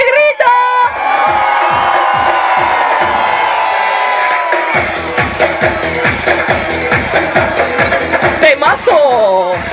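A crowd shouting and cheering at a New Year's Eve orchestra concert in Los Cristianos, a loud sustained roar with whoops, then rhythmic beats and music pounding under the cheering.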